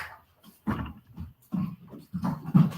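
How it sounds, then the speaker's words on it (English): A dog at home barking and growling in short, rough bursts, fairly close, with gaps between the outbursts. "Sorry, I've got a dog going crazy."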